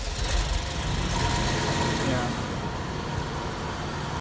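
A BMW E66 760Li engine, after a high-pressure fuel pump diaphragm replacement for a long-cranking fault, turns over and settles into a steady running hum, with a broad constant noise throughout and a brief cut at the end.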